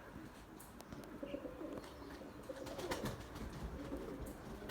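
A white male Bucalı tumbler pigeon coos quietly at its loft, a faint, low rolling call over light background rustle and clicks.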